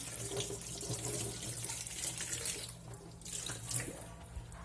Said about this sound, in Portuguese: eu vou estar passando todos esses morangos que eu já tinha deixado de molho para essa água pra gente começar a higienizar